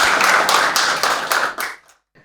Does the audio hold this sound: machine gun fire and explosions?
no